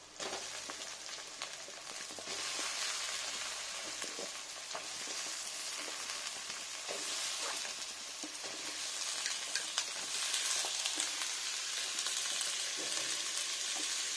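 Pumpkin, green chilli and ginger frying in a pan of hot oil, a dense, steady sizzle that crackles continuously and close for the whole stretch, with occasional stirring.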